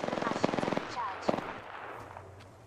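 Gunfire in Apex Legends opens with a quick rattling burst of automatic shots, then a few separate cracks that fade away, with a voice speaking in the mix.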